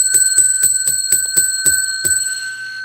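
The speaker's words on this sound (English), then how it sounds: "I ring the bell 10 times" A small handbell is struck in a quick, even series of about eight ringing strikes with a sustained metallic tone, then the ring decays alone.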